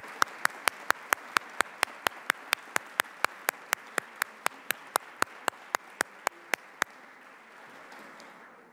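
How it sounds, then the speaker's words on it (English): A single pair of hands claps in a steady, even rhythm, about two dozen close, sharp claps, at an event honoring recovering women service members, then stops and leaves quiet room tone. "Would they stand or raise their hands so we can applaud them"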